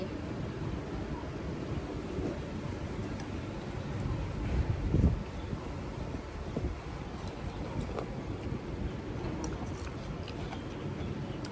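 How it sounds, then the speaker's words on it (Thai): Strong wind buffets the microphone in a steady, loud roar at an outdoor spot outside a Hokkien noodle shop, with a brief heavier gust midway and no talking. "โอ้โห ลมลมลม"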